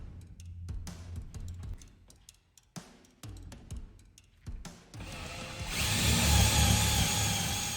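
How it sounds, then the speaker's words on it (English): A battery-powered impact driver drives lag bolts to mount a TV wall plate, starting with a series of short bursts and then running in a loud, sustained whir for the last few seconds. "I have a battery operated impact driver"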